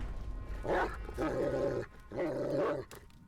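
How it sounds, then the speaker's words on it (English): A monstrous dog in the horror video game Layers of Fear DLC lets out three drawn-out, snarling growl-barks, loud and close, separated by brief pauses. "This sounds like not a great dog."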